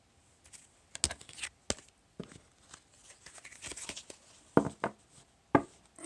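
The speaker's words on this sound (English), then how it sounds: "Let's cut the deck." Tarot cards being cut and shuffled in a quiet room: a series of soft, crisp slaps and riffles, with two sharper card snaps near the end, close and alone.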